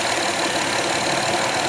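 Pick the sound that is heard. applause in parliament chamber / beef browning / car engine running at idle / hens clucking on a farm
car engine running at idle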